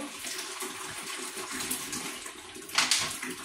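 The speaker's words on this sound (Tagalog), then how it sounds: "ilagay na natin ang 5 liters of water dito" Five liters of water poured into a container for homemade dishwashing liquid, a steady rushing splash running throughout at close range, swelling into a louder gush near the end.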